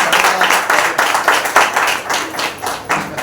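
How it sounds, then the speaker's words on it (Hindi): A church congregation claps loudly and steadily to welcome a visiting pastor at a Friday special service, dense overlapping hand claps filling the room with brief swells, no voices standing out. "स्वागत करते हैं जोरदार तालियों के साथ"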